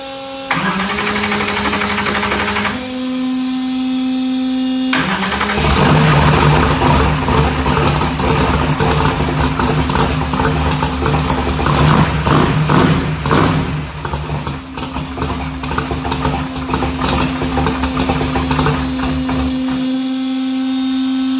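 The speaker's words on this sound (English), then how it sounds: "I want to see if the car will restart." A car engine starts twice, a brief stumble then a fuller catch, and settles into a loud steady idle with occasional throttle blips, close by and without talk.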